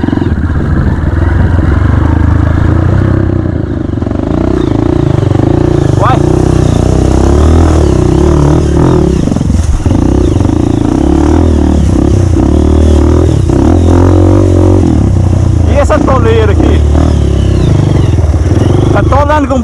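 A dirt bike engine runs and revs continuously on a trail ride in Nova Serrana, loud and close throughout, with clattering and people talking over it.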